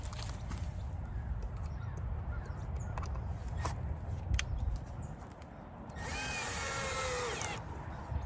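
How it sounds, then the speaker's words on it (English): A power drill driving a screw into a beehive wrap whirs loudly for about a second and a half near the end, after steady outdoor background noise with a few scattered clicks. "we press down and we install this ever so slightly and just drill it in"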